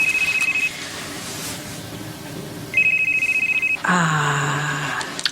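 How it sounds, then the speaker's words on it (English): A telephone rings in two bursts of steady electronic trilling, with a louder, harsher ring-like tone joining near the end; fairly close and clear, with no talking over it. "Phone call."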